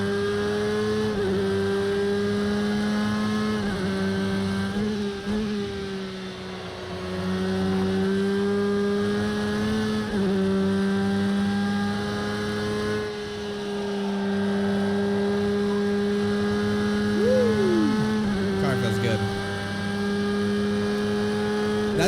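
A Porsche RSR GTE race car engine drones at high revs in Project Cars 2, holding a steady loud whine with brief dips at gear shifts and one quick rising blip, continuous throughout.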